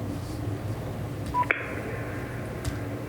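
A short electronic tone from a caller joining a municipal council conference call by phone, a brief beep followed by a steady higher tone, heard once over quiet room background with no talk.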